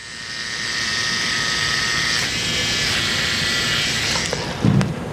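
A tattoo machine with its needle fitted runs as a steady, close electric buzz that holds an even drone throughout, with a brief low knock near the end.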